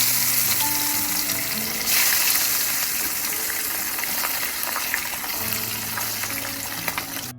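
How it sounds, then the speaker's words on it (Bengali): Pabda fish fried in hot mustard oil, a loud, continuous close sizzle and hiss from the pan throughout, with faint tonal hum in the background and no talking. "গরম হয়ে গেছে, এবার আমি মাছগুলোকে একটা একটা করে ছেড়ে দেবো।"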